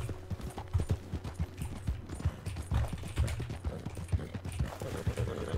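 Steady clip-clop of horse hooves at a walking pace in the video game Red Dead Redemption II, close and fairly loud, with a low rumbling background and no talking.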